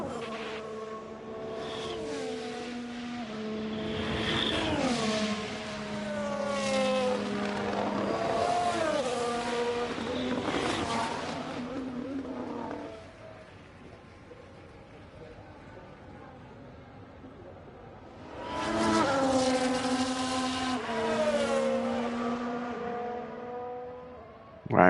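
Formula 1 cars in the F1 Manager 23 racing game drive out onto the track, several high-revving engines whining up through gear changes in loud overlapping bursts that fade and then return strongly.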